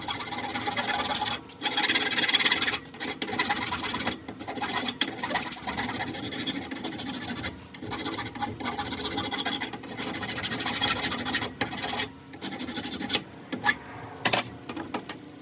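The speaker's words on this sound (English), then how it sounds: "we'll go ahead and put these in the vise and smooth them out real quick so they'll slide better" A hand file rasps back and forth over small pieces clamped in a vise for a catch-indicator fishing jug, in uneven rhythmic strokes with short pauses, close and fairly loud.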